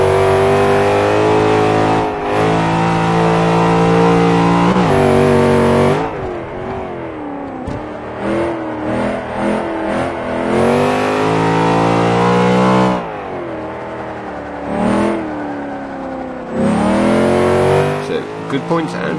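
A muscle car engine in the racing game Forza 5 revving hard, loud sustained roars that climb and drop through gear changes, with brief dips between bursts and a voice faintly beneath.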